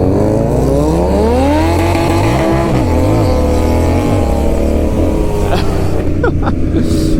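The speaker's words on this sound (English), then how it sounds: "Erik said he's going to do a rolling burnout here, so I guess we'll see what happens." Motorcycle engine revving hard during a rolling burnout among big bikes, loud and close, with climbing and wavering pitch and rough tire noise building toward the end.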